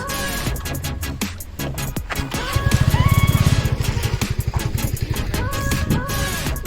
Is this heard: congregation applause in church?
no